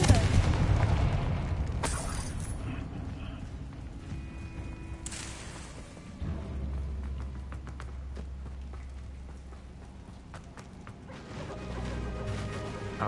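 The Confringo fire spell goes off in the video game Hogwarts Legacy, producing a few sharp booms and crashes with rumbling tails amid ongoing game ambience.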